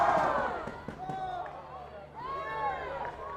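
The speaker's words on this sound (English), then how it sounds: "Crowd going up, making their opinion known." Spectators at a girls' 1st XI school hockey match between Clifton College and Millfield rise in a loud crowd reaction, with cheering and shouting under steady chatter and nearby voices throughout.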